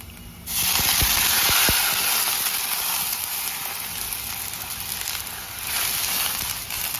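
About one and a half cups of water poured into a hot pan for seviyan upma set off a sudden loud, sustained hiss and sizzle of steam after a few quiet clicks, fading slightly then swelling again.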